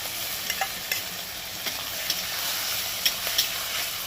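Prawns frying in hot oil for a taro-greens dish, a steady close crackle broken by sharp spatters and stirring taps every second or so.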